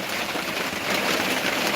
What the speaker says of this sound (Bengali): ঠান্ডা ঠান্ডা ঠান্ডা ওয়েদার বৃষ্টি